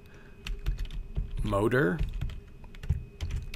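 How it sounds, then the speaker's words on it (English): Rapid clicking keystrokes on a computer keyboard, close and fairly soft, run through the whole stretch, with someone briefly speaking over them in the middle. "I'm going to start typing. I'm going to type"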